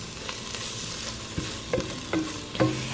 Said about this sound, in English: We're gonna cook that for 2 or 3 minutes and get all that raw flour taste out.